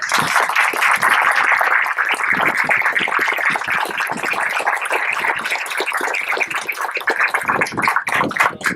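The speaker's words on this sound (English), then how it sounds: "give a nice round of applause to our members of the board" Sustained round of applause from an outdoor crowd at a high school ground-breaking ceremony, dense clapping holding steady and fairly close for the full stretch with no talk over it.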